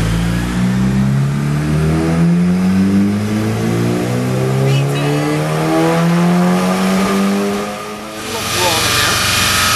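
Turbocharged Honda F23 engine on a dyno, stock injectors, revving hard through a full pull with rising harmonic tone, then briefly dropping off near the end before picking up again; loud and close, with a voice over it.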